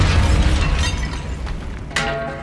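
A Bombarda blasting spell goes off inside a bone-lined tomb in Hogwarts Legacy, a loud close explosion that rumbles away and ends in a sharp shattering crack.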